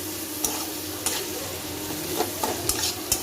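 Onions frying in a pan and turned with a spatula: a constant dense sizzle with several crisp scrapes and clinks spread unevenly across it, close up, with no voices.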